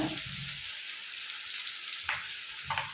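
Brinjal pieces frying in plenty of oil for vankaya pulusu give off a soft, steady sizzle, broken by a few brief clunks and scrapes of stirring near the end.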